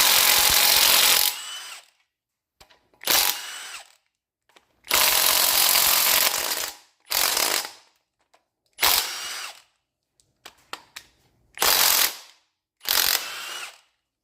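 An 18-volt cordless impact wrench hammers at a stuck bearing race in loud, close bursts of rattling impacts, each lasting one to three seconds, separated by pauses.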